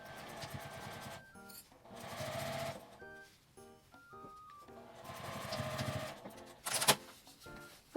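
A sewing machine stitches the turning opening of a small fabric box pouch closed in several short bursts of rapid mechanical whirring separated by pauses and handling rustle, fairly quiet and close.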